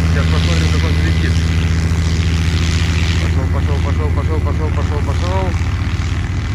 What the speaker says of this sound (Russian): О, сейчас пипистрель взлетает.